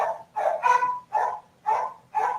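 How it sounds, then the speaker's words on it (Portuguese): A female dog barks indoors at home, giving five loud close barks in an even rhythm. "Agora a cachorra aqui em casa vai latir muito, gente."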